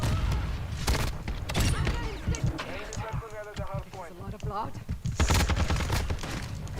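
Rapid gunfire bursts ring out in Warzone 2 on the chaotic Shipment map, sharp repeated cracks and short volleys mixed with game sounds, while someone talks over much of it.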